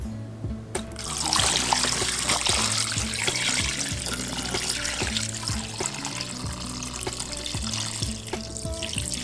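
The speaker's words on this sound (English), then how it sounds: "You're going to pour some water." Water runs steadily from a tap, pouring and splashing over chopped turkey wings in a sink as they are cleaned. The flow is continuous and close, with no talking.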